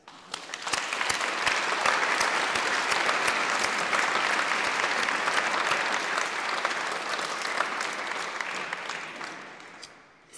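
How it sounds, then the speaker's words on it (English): A university graduation audience breaks into sustained applause, a dense wash of many hands clapping at even volume for about ten seconds before tapering off near the end. "maybe you'd like to give your own family and friends a round of applause"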